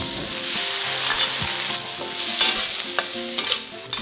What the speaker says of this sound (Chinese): 放入葱姜蒜炒香，再来一勺豆瓣酱炒出红油，倒入干辣椒还有花椒呢，也炒出香味。